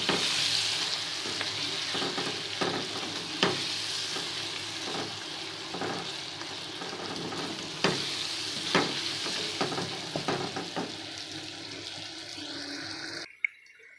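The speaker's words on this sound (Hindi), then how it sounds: "मसाला फ्राई करेंगे" Masala with tomato fries in a pan with a continuous sizzle and intermittent stirring knocks, then cuts off abruptly near the end; no speech.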